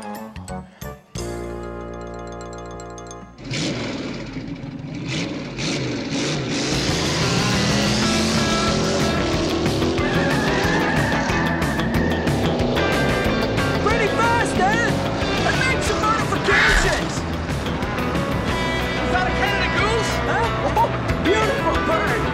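A loud tractor engine rumbles steadily as the tractor drives fast, with rattling and clanking throughout and people talking over the noise.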